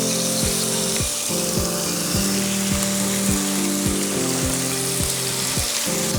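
Salmon sears hard in a hot pan, a loud steady sizzle that never lets up, with a low rhythmic ticking repeating underneath throughout, and no voices.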